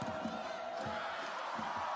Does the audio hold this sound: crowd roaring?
yes